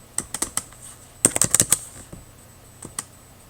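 Typing on a computer keyboard during bookkeeping work: a quick run of light key clicks, a short pause, then a denser burst of taps and a couple of final keystrokes, close and fairly quiet.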